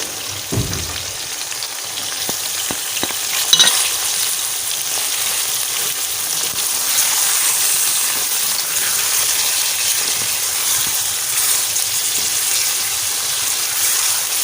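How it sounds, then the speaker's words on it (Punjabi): Chicken meat frying with ginger and garlic paste in a pan, a loud, steady, dense sizzle with crackling and a few faint scrapes, continuous throughout and close, with no voices. "ਥੋੜ੍ਹਾ ਜਿਹਾ ਅੱਛੀ ਤਰ੍ਹਾਂ ਨਾਲ ਭੁੰਨੋ। ਗੋਸ਼ਤ ਥੋੜ੍ਹਾ ਜਿਹਾ ਫਰਾਈ ਹੋ ਗਿਆ।"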